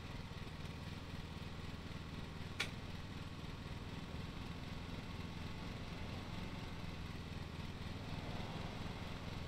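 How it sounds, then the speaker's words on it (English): Ride-on lawn mower engine in the video game Lawn Mowing Simulator drones steadily and evenly throughout, a constant mid-pitched motor hum with one brief sharp click near the start, no voices over it. "That is a cool lawnmower."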